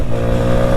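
A CFMOTO Papio 125, a small urban motorcycle with a six-speed gearbox, runs steadily during a test ride, its engine a loud, close, even drone with no one speaking.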